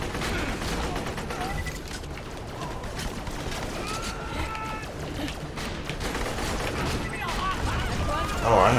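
Enemy gunfire in Borderlands The Pre-Sequel, a dense, continuous crackle of shots and clattering effects throughout, loud and busy with no pauses.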